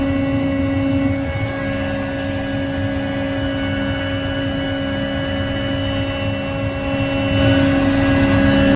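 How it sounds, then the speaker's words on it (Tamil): A helicopter flies over a landslide-hit area of Wayanad, Kerala, with a loud, steady rotor and engine drone and a sustained mechanical tone for about nine seconds, swelling slightly near the end, with no voices. "அம்மாநில முதலமைச்சர் பினராயி விஜயன் ஹெலிகாப்டர் மூலம் ஆய்வு செய்தார்"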